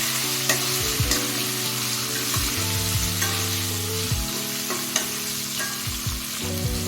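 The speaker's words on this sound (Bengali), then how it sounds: "এখন লঙ্কাটা একটু ভাজা ভাজা হয়ে গেছে।" Green chillies fry in hot oil with a continuous loud sizzle, stirred now and then, the spatula scraping and tapping the pan, with no talking.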